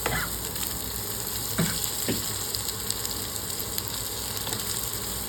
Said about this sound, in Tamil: வெங்காயம் வந்து பொன்னிறமாக நல்லா மெருகிற வரைக்கும் அதை வந்து நம்ம ஹீட்டில் வந்து மெயின்டைன் பண்ணணும்.